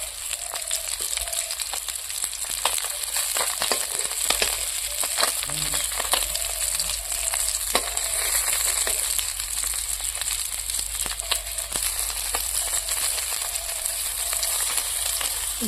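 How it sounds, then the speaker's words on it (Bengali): Potato pieces fry in a pan with a steady, close hiss and scattered crackling pops, running continuously with no talk over it. "আলু ভাজা হচ্ছে, এক পাশে ভাজা হয়ে গেছে আর এক পাশে ভাজা হচ্ছে"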